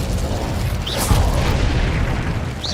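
Incendio fire spell cast in Hogwarts Legacy, a whooshing burst of flame with a low boom near the one-second mark, set against dense continuous game noise.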